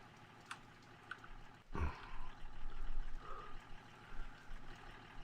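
Engine of an old, worn Land Rover Defender in a farming video game, a low rough rumble running throughout at moderate level, swelling after a sharp thump and then fluctuating unevenly.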